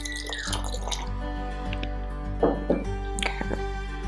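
Tap water running into a spray bottle holding a squirt of dish soap for a homemade cleaning spray, a steady close stream with the pitch rising as it fills, plus a few splashy bursts.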